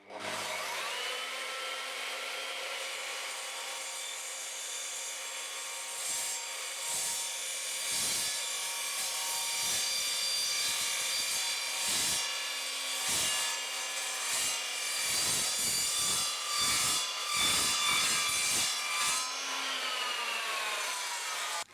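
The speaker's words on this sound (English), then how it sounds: "I'm now going to cut this piece of profiled aluminium using the same blade" Evolution Rage 3 sliding mitre saw slicing through profiled aluminium: a loud, steady high-pitched blade whine with rough grinding texture, repeatedly interrupted by brief gaps and bursts as the cut progresses, no talking.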